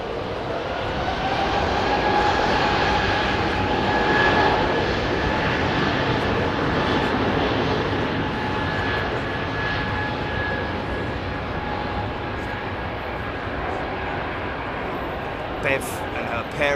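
An Airbus Beluga XL departs Heathrow Airport with a loud, sustained jet engine roar and droning tones that hold steady throughout, and voices talk faintly beneath it.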